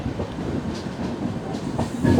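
The 16332 Express rolls into Palakkad Junction, heard from inside a 2A coach as a steady rumbling ride with soft clickety-clack of wheels over rail joints, moderately loud and continuous.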